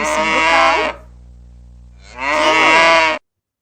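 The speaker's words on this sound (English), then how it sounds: "This is cow. Cow sounds." A cow moos twice in long, loud, close calls, with a short quiet gap between them and no talk over them.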